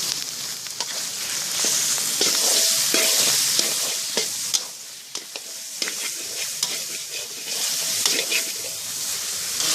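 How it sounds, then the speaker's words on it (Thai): Siamese mud carp meat, freshly scraped, stir-fried with fragrant curry paste in a hot pan: a steady loud sizzle with repeated scraping clicks of the spatula throughout, no talking. "ใส่เนื้อปลายี่สกครับที่เราตกมาเองแล้วเราขูดเอาไว้นะครับ ลงไปผัดเลยนะครับ"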